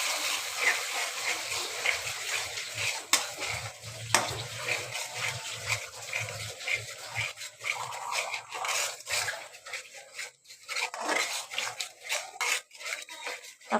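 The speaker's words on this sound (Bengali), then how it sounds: "দেখতে পাচ্ছেন আমি এখানে এগুলোকে ভেজে নিচ্ছি" Spice paste and yogurt fry in a pan, giving a soft, close sizzle broken by scraping stirs and occasional clinks, fairly quiet, with no talk.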